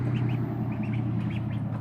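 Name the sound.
young ducks quacking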